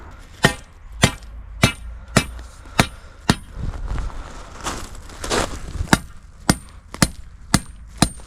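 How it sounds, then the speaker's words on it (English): Sharp metallic hammer blows drive pipes into loose rock for a paver patio base, striking in a steady rhythm, about a dozen in all, with a brief scraping, shuffling lull in the middle. "that's when you gotta just kind of hammer them into place"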